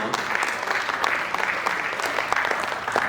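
An audience at a theatre festival claps loudly and continuously, a dense sustained wash of hand claps filling the hall from start to finish.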